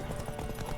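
Horse hooves clip-clop in The Witcher 3: Wild Hunt video game, a quick run of rhythmic hoofbeats, fairly close and steady, with background game ambience.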